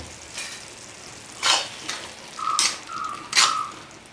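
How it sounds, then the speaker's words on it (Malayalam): Chicken tikka stir-fried in a pan over high flame: bursts of sizzling and scraping stirs come in uneven strokes close up, with a faint metallic ring between them. "നമ്മളിത് നന്നായി ഒന്ന് ഇളക്കി വരട്ടേരാം. അപ്പോൾ നമ്മൾ ഒരു 1/2 മിനിറ്റോളം നമ്മൾ ഹൈ ഫ്ലെയിമിലിട്ടിട്ട് നമ്മളിത് വെച്ചിട്ടുണ്ട്"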